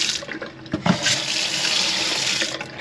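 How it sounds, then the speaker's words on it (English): Water gushes steadily from a newly installed RV sink faucet into the basin, a close, continuous splashing rush with slight fluctuations, no voices. "You have the honor of actually washing your hands with a real faucet"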